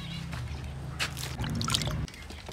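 Fresh water is changed for pet pigeons, with close trickling and dripping sounds over a low steady hum, a louder pouring stretch in the middle, then a quick stop.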